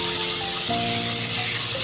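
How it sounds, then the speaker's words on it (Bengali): Marinated vegetables tipped into a hot oil tempering for a hilsa fish head dish, a loud continuous sizzle with faint metallic ringing, no talk. "এবার এই যে মেখে রাখা সবজিটা আমি এর মধ্যে দিয়ে দেব।"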